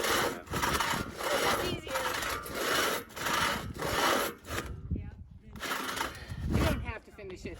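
A hand saw cuts through a log during trail maintenance, its rhythmic back-and-forth rasping strokes loud and close, pausing briefly before resuming; voices talk around the sawing.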